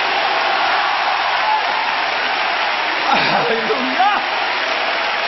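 A church crowd claps and cheers in a steady, dense roar of applause, while a voice shouts briefly over it.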